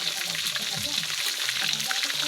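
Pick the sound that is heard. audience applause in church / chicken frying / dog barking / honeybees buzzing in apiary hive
chicken frying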